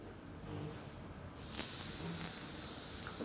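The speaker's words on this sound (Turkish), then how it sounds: "Şimdi etleri tavaya koyacağım." Beef pieces hit an oiled pan and start searing: a faint background hum jumps to a loud, steady hiss that carries on close by.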